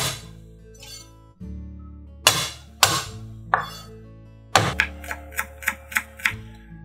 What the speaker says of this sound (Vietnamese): Tỏi với hành tím thì mình sẽ băm nhuyễn.